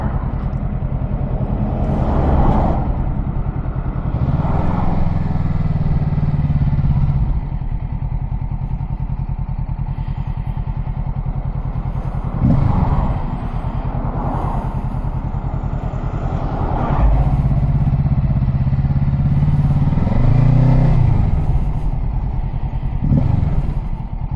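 A motorcycle engine under way on a road ride, held high in the rev range, droning steadily and loudly close by, with a few rises and dips in pitch and occasional thumps.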